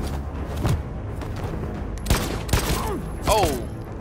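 Gunfire from the video game Detroit: Become Human, a few sharp shots and booms over a steady bed of game ambience, with some musical or tonal sweeps between them.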